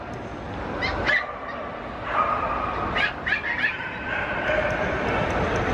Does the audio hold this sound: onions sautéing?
no